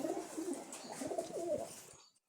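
Bagerhat black line breed pigeons coo softly in a low, rolling series of throaty calls, close but quiet, with no voices.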